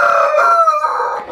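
A Sussex chicken kept in a backyard coop gives one loud, close, tonal call lasting just over a second, with no other sounds around it.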